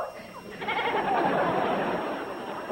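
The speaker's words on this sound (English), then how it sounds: "A goat?" A goat bleats in broken, wavering calls close by on a porch, steady and fairly loud throughout, with faint voices mixed underneath.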